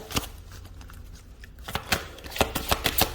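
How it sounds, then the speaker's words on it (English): Tarot cards riffle and snap in several quick bursts, growing busier toward the end, close up with no talking. "let me just shuffle one more card."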